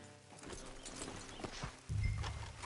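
Horses walking in Red Dead Redemption 2, a soft clip-clop of hooves close by with a brief louder thud near the end and no speech.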